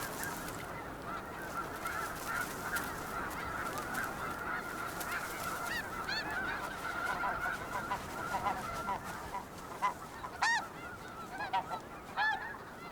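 Geese honk repeatedly over a steady rushing outdoor background, the calls growing more frequent and louder toward the end, several birds trading short nasal honks.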